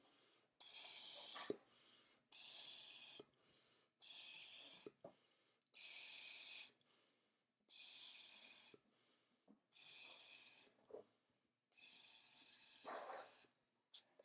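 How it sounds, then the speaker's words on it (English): Air hisses out of a balloon sealed with tape in a series of about eight separate bursts, each lasting roughly a second, with quiet pauses and faint breathing-like sounds in between. "I can hear air coming out somewhere"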